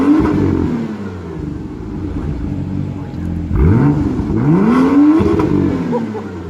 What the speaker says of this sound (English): Let's get some rev time.